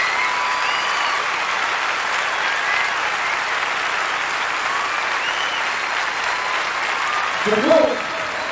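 Crowd applause from a large stadium audience at the 1995 drum corps finals after the Colts' performance ends, steady broadband clapping and cheering sustained throughout, with a brief louder swell near the end.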